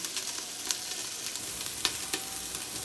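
Onions and aromatics sauté in a pan for a mung bean dish, a steady soft sizzle with occasional light stirring clicks, fairly quiet and without voices.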